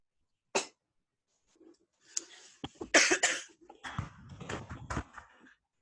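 A person coughing several times up close, one sharp cough then a cluster of harsh, throaty coughs and throat clearing, separated by silence, no talking.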